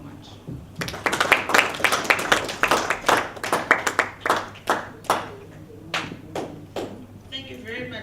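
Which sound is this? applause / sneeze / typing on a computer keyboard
applause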